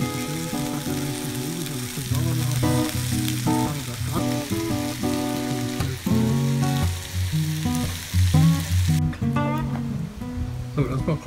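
Meat sizzles steadily on a swing-arm campsite grill with a pan set above it, a crackling fry that continues over background music and occasional movement.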